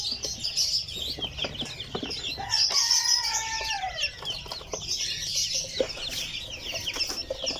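Newly hatched silkie chicks fresh from an incubator peep in a dense, continuous chorus of high chirps, close and lively, with no talking.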